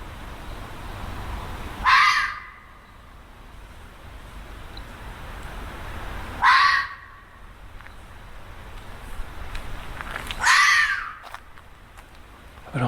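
A fox in the UK screams three times at spaced intervals, each a short, shrill, rasping shriek standing out loudly against a quiet, hissy night background.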